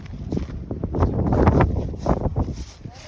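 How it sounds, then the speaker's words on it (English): Wind gusting across a family farm, buffeting the microphone in uneven rushes and rumbles that swell and fade over a few seconds. "It's getting a little windy."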